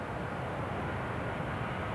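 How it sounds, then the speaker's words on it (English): NATO military aircraft flying into battle over Kosovo and Serbia in 1999 produce a steady, dense engine roar that fills the whole stretch at an even moderate level with no break. "Again tonight, a high-tech AWACS plane led the deadly procession into battle"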